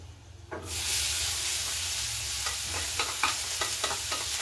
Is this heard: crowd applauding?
no